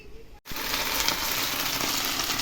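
Steady loud sizzling of potato pancakes frying in a hot pan, a continuous crackling hiss after a brief moment of silence at the start.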